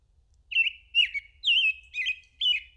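An American Robin sings a series of clear, fluty warbled phrases, about five in quick succession, bright and close with no other sounds.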